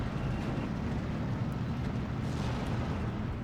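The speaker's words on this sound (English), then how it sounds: "Centaur must be shooting at our Pack 40 here." Heavy artillery-like booms and rumbling from a Centaur tank firing on a Pak 40 anti-tank gun in a Steel Division 2 WWII battle, a dense continuous low roar with muffled blasts throughout.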